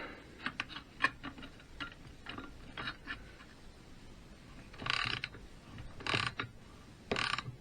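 Parts being tightened on the primary side of a BSA Bantam D3 motorcycle engine during a rebuild: a run of small metallic clicks and ratcheting ticks at close range, with a few louder bursts near the end, no voices.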